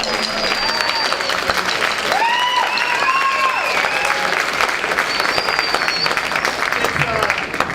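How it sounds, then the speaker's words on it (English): Sustained applause from an audience at a high school concert band performance, steady clapping throughout with a few cheers and whoops rising above it. "Another round of applause."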